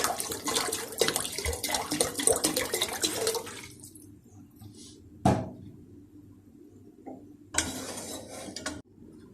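About half a litre of water is poured steadily into a cooking pot for mutton koftas, a close splashing rush for several seconds, then a quiet pause broken by two sharp clinks.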